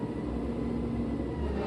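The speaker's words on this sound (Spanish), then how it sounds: "el camión de la basura." A garbage truck passing outside a supermarket in Medellín gives a steady, loud engine rumble with a low droning hum that holds evenly throughout.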